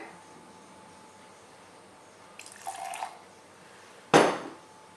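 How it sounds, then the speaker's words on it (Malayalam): Vinegar is poured into milk in a container while making homemade mayonnaise: a short, quiet trickle, then a brief sharper splash after a pause, with no one speaking. "നമുക്ക് ഇതിലേക്ക് വിനാഗിരി ഒഴിക്കാം."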